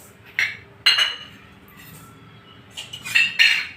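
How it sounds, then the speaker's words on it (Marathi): A spoon scrapes and clinks against a pan as niger seeds and coriander seeds dry-roast, giving a few sharp metallic taps in short bursts separated by quiet stretches. "आता कारळे आणि धने आपण थोडेसे भाजून घेऊया"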